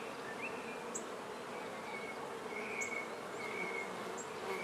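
A honey bee swarm buzzes in a dense, steady hum that holds at an even level, with a few brief higher whines of individual bees passing nearby.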